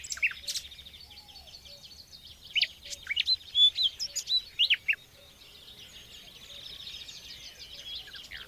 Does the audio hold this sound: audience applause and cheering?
no